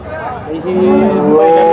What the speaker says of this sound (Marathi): काय कंडिशन आहे गाईची